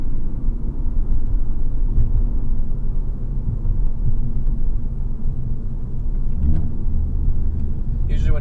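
Ford Focus ST with a Turbosmart blow-off valve heard from inside with the windows up: steady low engine and road rumble throughout, with a brief whooshing release near the end.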